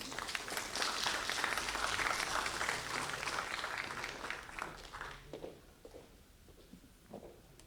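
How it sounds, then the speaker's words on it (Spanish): An audience at a talk given at the Congress of the Republic applauds the speaker, a dense round of clapping that holds steady and then thins out into a few scattered claps and faint footsteps. "Un aplauso para ella, por favor."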